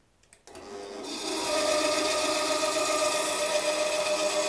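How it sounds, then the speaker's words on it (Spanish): A band saw powered from an AllPowers S2000 portable power station switches on after a brief quiet moment, its motor spinning up over about a second into a steady, loud, even whine that holds to the end. "hemos conectado nuestra sierra de cinta y está todo puesto, le damos"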